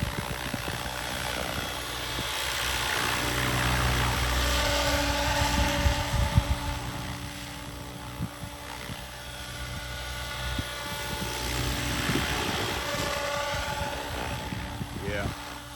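A Goosky RS6 RC helicopter flies steadily nearby, a continuous high rotor and motor whine that holds for the whole stretch beneath outdoor background noise, with a voice speaking over it.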